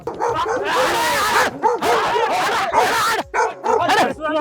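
A mangy dog barks and yips close by in loud, rapid bursts with brief whimpering notes, mixed with people's voices.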